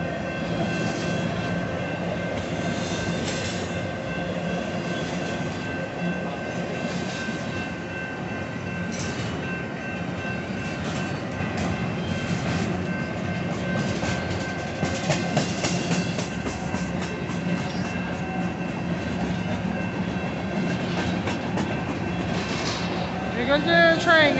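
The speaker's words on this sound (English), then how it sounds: "Here goes the train, guys" A BNSF intermodal freight train of empty flat cars, led by two locomotives, rolls past with a continuous loud rumble and rattling clickety-clack, and a brief wheel squeal near the end.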